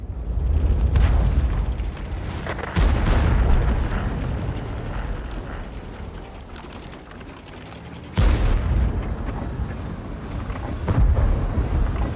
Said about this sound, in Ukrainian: Вирішив спробувати ще раз такий постріл, але, на жаль, на жаль, промах.